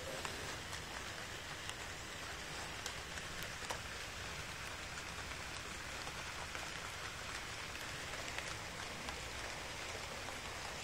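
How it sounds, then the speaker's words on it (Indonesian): Soft, steady patter of light rain falling on surfaces, continuous and even with faint scattered drops, no voices. "Sedang gerimis."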